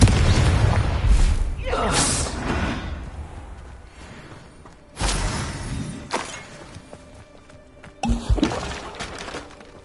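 Blasting spell explosions from the Hogwarts Legacy video game: three loud bursts, the first near the start, another about halfway and a third near the end, each booming and shattering, then tailing off among game sounds.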